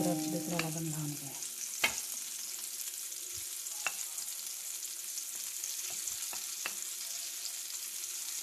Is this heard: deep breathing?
no